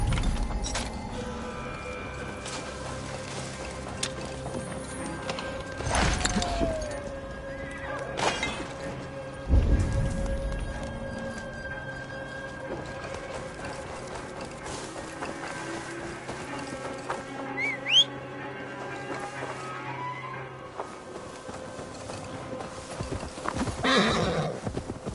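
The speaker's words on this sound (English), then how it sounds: "Now to deliver Magni his horse." Horse hooves clip-clop in Assassin's Creed Valhalla near Grantbridge, with several whinnies and neighs rising above a steady in-game ambience, hoofbeats coming and going over about twenty-five seconds.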